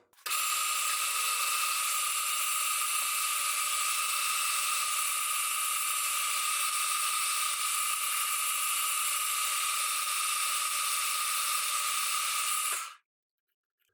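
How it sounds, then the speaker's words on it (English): A steady, high-pitched whining spotting drill bores into steel, running continuously for about twelve seconds, then stops abruptly; no voices. "test my brand new spotting drill"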